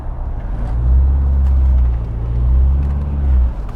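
A car engine idling roughly, loud and close, with a deep low rumble that swells and dips unevenly in slow surges, no voices over it.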